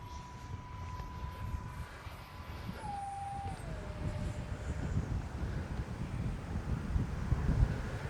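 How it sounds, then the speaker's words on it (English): Strong wind at an RC flying field buffets the microphone with a low, irregular rumble that builds toward the end, while a faint high whine of a twin 40mm F-22 Raptor jet drops in pitch and fades into the distance. "Yeah, it's awfully windy,"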